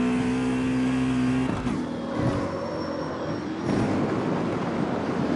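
A BMW in the CarX Street racing game drives with a steady, loud engine drone that dips briefly midway, then swells back to a rough, continuous roar.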